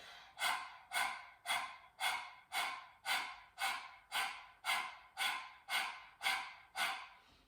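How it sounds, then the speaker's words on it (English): Breath of fire yoga breathing with the mouth open and tongue out: a quiet, close run of about a dozen rapid, evenly spaced panting breaths, each a sharp airy puff fading quickly, with no talking. "start panting like a little chihuahua on a hot summer day"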